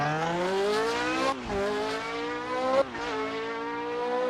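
A Lotus 72D Formula 1 car with a 440-horsepower Cosworth V8 screams at high revs, pitch climbing through two gears with sharp drops at each upshift, loud and close.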